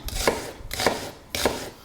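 A kitchen knife chops a small onion finely on a cutting board, three crisp, evenly spaced strokes at close range with no talking.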